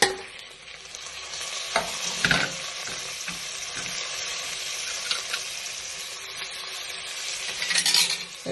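Chopped tomatoes frying for Kerala-style beef biryani, a steady close sizzle with a few sharp spatula scrapes and clatters against the pan throughout.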